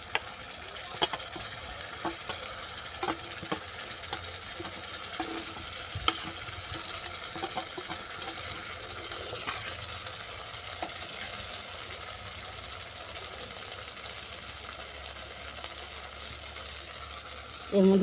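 Onions and spice paste frying in a pan while being stirred, a faint continuous sizzle with occasional light scrapes and taps, close but quiet throughout.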